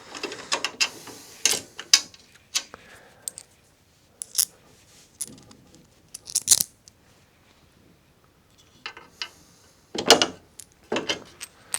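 Bolts sized 6×35 are handled and fitted while side cases are mounted on a QJ SRT 125 DX motorcycle, heard as close, scattered metallic clicks, clinks and ratcheting bursts separated by quiet gaps.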